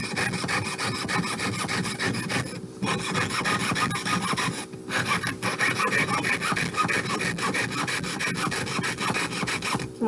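A jeweler's saw rasps through metal for a necklace in steady, rapid back-and-forth strokes, close and continuous, pausing briefly twice.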